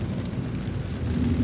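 Heavy rain pours down along a road between Albay and Camarines Sur, a dense, steady hiss with a low, rumbling undertone.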